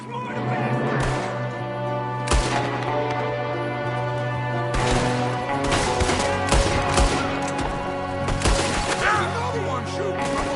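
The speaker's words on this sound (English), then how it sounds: "Another one shooting from the window." Gunfire bursts out in a Red Dead Redemption 2 shootout, loud shots cracking over a sustained tonal music bed, with voices talking now and then.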